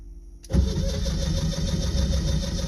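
A reluctant engine cranks without catching: after a brief near-silence, a loud, close churning starts suddenly and carries on steadily to the end.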